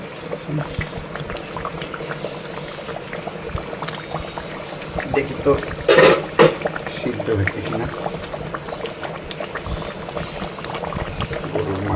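Beef biryani gravy bubbles and simmers down in a pot, a steady close boiling sound with a louder burst of bubbling midway, under a faint background of voices.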